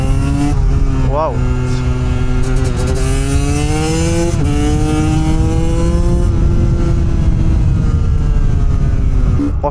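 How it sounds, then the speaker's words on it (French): A KTM 150cc two-stroke supermoto motorcycle screams at full throttle, its loud, rising engine pitch climbing through gear changes with brief dips between shifts, close and continuous throughout. "La moto, elle hurle."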